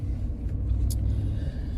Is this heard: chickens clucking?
no